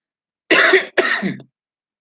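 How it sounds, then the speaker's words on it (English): Two quick, harsh coughs close to the microphone, one right after the other, then silence. "Sorry, I'm coughing again."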